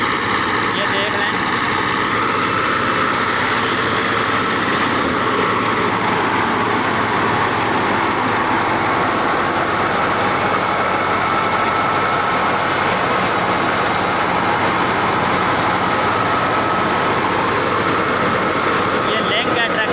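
Fiat 640 horsepower tractor engine driving a thresher machine on a Punjab farm, a continuous loud rumbling roar with dense mechanical clatter and grain-processing noise throughout, no pauses.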